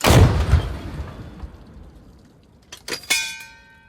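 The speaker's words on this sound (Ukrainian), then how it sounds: "Гармата. Постріл!" An artillery gun fires a heavy blast that rumbles away, followed later by a pair of sharp cracks with metallic ringing, loud and outdoors with no talking.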